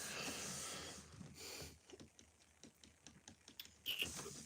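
Fingers tap out quick, light clicks on a phone or computer keyboard, a soft irregular patter heard close up and fairly quiet, with no talk over it.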